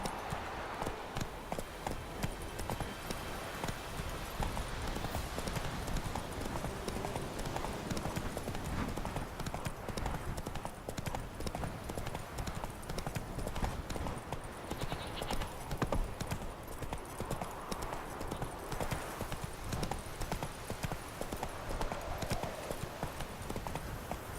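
A horse's hooves clip-clop in The Witcher 3 video game in a steady, continuous rhythm at close range, with faint game ambience underneath throughout.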